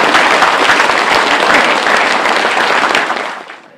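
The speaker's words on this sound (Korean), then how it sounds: "큰 박수로 맞춰주시죠." A crowd at an inauguration ceremony gives loud, sustained applause that tapers off at the end.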